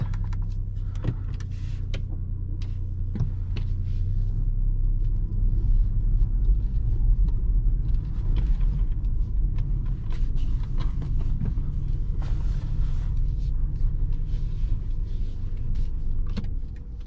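Inside a 2021 BMW 118i M Sport with a 140 hp petrol engine and Steptronic automatic, a steady low engine rumble and road hum fill the cabin as it sets off, with small clicks and knocks throughout.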